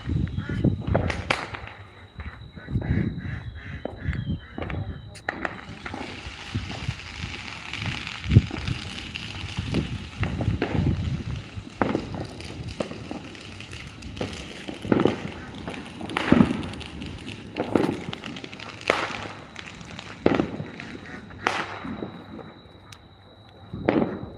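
Fourth of July fireworks go off in an irregular barrage of cracks, pops and booming bursts, some sharp and near, others softer, over a faint background of people.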